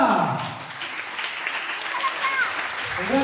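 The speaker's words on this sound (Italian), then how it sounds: "Un grande applauso al maestro." An audience at a school recital claps for the maestro in a steady, moderately loud ripple of applause, with a voice calling out over it near the start and again toward the end.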